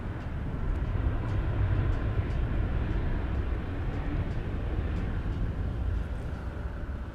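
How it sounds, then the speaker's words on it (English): EVA Air Boeing 787 Dreamliner at Dallas Fort Worth airport, a steady broad jet roar with low rumble filling the whole stretch, distant and constant without breaks. "And right behind it is the EVA Air Dreamliner."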